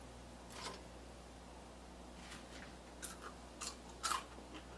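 A crispy french fry from an Instant Vortex Plus air fryer is bitten and chewed close up, giving a few faint, sharp crunches in a quiet room.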